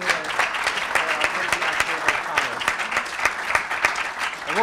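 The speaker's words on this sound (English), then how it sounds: "let's all give Ray a big round of applause" A crowd at a town State of the Town event claps for a retiring employee named Ray, a full, sustained round of applause with crisp individual claps, fairly loud and close, a faint voice surfacing near the end.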